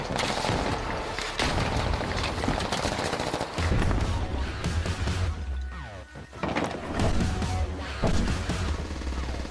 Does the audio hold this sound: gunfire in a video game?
yes